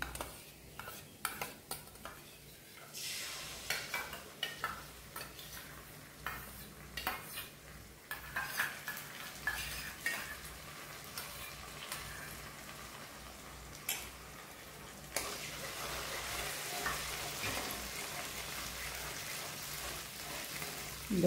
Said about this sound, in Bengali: দইটাকে সিমে করে ভালো করে তেলের সঙ্গে দইটাকে মিশিয়ে নিতে হবে